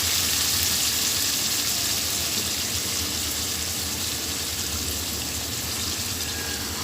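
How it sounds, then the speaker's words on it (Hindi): Minced meat keema with kachnar buds stir-frying on high heat in a pan, a steady, close, even sizzle with a faint hiss, continuous and unbroken with no voices. "कीमे में कचनार डाल के भी 2-3 मिनट तक मैंने तेज़ आंच पे इसकी बुनाई की है"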